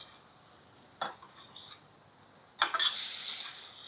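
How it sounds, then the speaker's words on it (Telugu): A spoon stirs eggplant curry in a pot, making two short scraping, clinking bursts near the mic with hardly any talk. "ఒకసారి కూర తిరిగేద్దాము."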